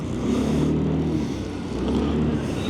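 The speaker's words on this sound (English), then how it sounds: "Bucharest traffic." City road traffic in Bucharest heard from a motorcycle, a steady rumble of car engines with low revving and passing vehicles, loud and continuous with no talk.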